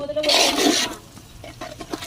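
Water poured into a pot of biryani during cooking: a loud, broad splashing pour lasting under a second, then quieter trickles and small splashes.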